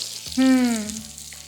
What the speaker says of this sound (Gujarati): આપણે હાંડવો પણ પેનમાં કરી રહ્યા છીએ